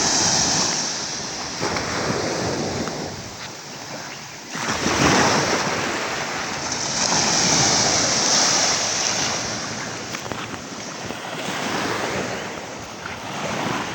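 Ocean waves breaking and washing ashore at Virgin Beach in Karangasem, Bali, a steady roar of surf that swells and falls in broad surges, with wind buffeting the microphone throughout.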